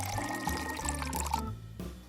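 Melted balm of beeswax, shea butter and grape seed oil pouring into a small EOS cap, a faint, brief liquid trickle close by that stops abruptly near the end.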